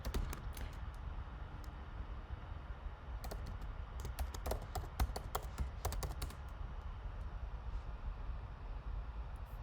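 Keystrokes on a computer keyboard entering a terminal command, scattered clicks in irregular bursts that cluster mid-clip, fairly close over a steady low background hum.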